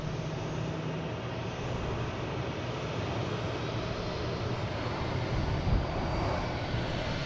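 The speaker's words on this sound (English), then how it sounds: "There's a Delta coming in on 4 left, really quick." A Delta airliner lands on runway 4 Left at Boston Logan, a steady broadband jet engine roar that holds loud and unbroken throughout with no voices.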